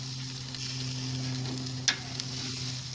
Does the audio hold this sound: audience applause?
no